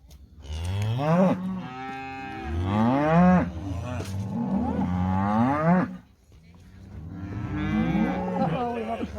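Cattle on a ranch bellow in repeated long, loud moos during a sale-day sort of cows and a big bunch of calves, several overlapping calls with a brief pause midway.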